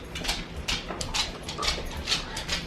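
Several dogs' claws click on a hard floor in short, irregular bursts close by, with soft dog whimpers and yips mixed in.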